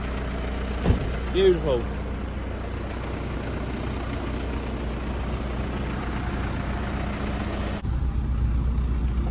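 A long-parked old lorry's engine runs after priming, a steady low idling rumble with a brief clatter near the start, while someone talks over it.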